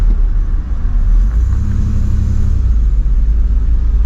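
A Turbo Trans Am engine held on the brakes in a parking lot, a loud deep rumble that swells as the revs build, then settles into a steady heavy drone.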